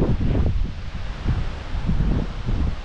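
Gusty wind buffets the microphone at a rippling lakeside while a DJI Mini 3 Pro drone flies far out, a loud continuous rumbling roar that swells and dips.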